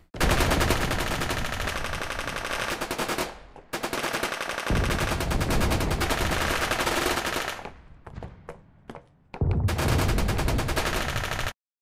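Dense, continuous explosion and gunfire-like sound effects play back in Unreal Engine, loud overlapping bursts that cut off abruptly, then sparse scattered blasts trailing away before another solid loud barrage resumes.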